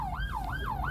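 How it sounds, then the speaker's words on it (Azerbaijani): An ambulance siren passes through road traffic, its loud wail sweeping up and down in a repeating cycle, close by and steady over a low hum of traffic. "indi təcili yardım keçir"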